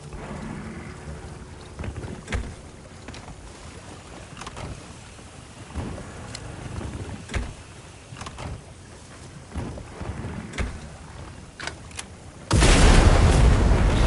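A bomb goes off in the Monster Hunter Wilds video game: one loud, sudden blast near the end, after a stretch of low rumbling ambience broken by faint thuds.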